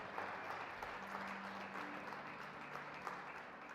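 Church congregation clapping together, a steady wash of applause heard from some distance in a large room, continuing evenly with a faint tone underneath.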